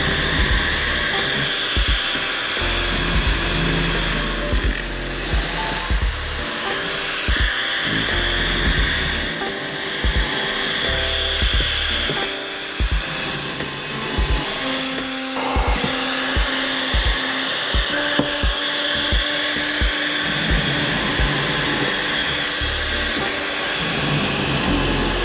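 Power drill boring into wood through a jig hooked to a running shop vac, a continuous loud whine with repeated surges and dips as each hole is drilled.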